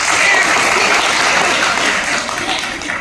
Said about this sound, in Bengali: তাহলে গ্রুপের জন্য সবাই হাততালি দাও